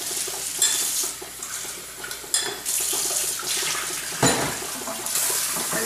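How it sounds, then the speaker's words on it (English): Water runs from a tap over pumpkin seeds being rinsed in a strainer, a steady splashing hiss with occasional louder bursts and clatter as the seeds are moved, and no voices. "Now we need to take our pumpkin seeds and rinse them really well."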